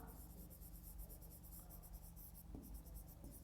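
A pen scratches answers onto paper in short strokes, faint and close, over a soft steady background hum with no voices.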